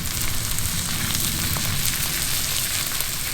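Skin-down redfish fillet frying in a hot wok: a loud, steady, close sizzle with constant crackling spatter throughout.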